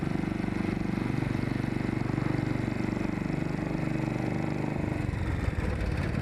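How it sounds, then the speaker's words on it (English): A Royal Enfield motorcycle engine thumps steadily at a low, even idle, close and continuous, with a slight change in tone near the end. "a little extra thump to the sound of the motorcycle"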